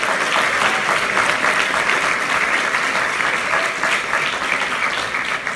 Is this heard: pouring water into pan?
no